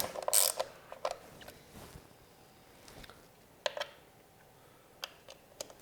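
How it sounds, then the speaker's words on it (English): A ratchet clicks in short quiet bursts as clutch cover bolts on a 2018 Harley-Davidson Softail Slim are snugged in sequence, with scattered ticks and small metallic clinks in a still room. "we're going to just go in sequence and just snug them up first"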